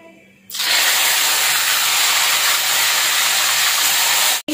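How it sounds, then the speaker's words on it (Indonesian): Catfish drops into hot oil in a home kitchen and bursts into a loud, steady sizzling hiss that starts abruptly and holds evenly, ending with a brief clatter. "Terus aku mau goreng lele buat Neji ya."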